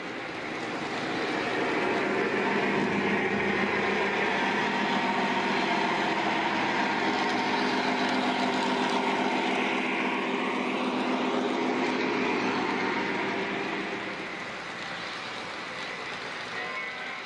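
Lionel model train locomotive rolling steadily over a SensorTrack section, a continuous close rumbling whir that swells after a second or two, holds, then eases slightly near the end.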